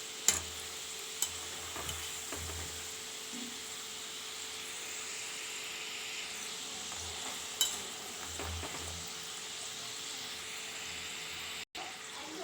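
Honey candy (then mittai) batter frying in hot oil, a steady soft sizzle and fine bubbling that runs throughout, with a few faint clicks and taps near the pan.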